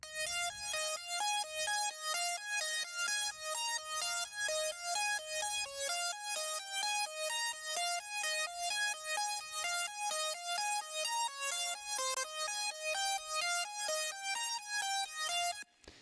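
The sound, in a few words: EDM synth lead melody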